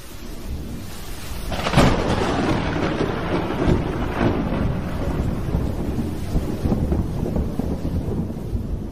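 Steady rain with rolling thunder, a loud crack near the two-second mark and further rumbles, heard alone with no voices over a constant wet hiss.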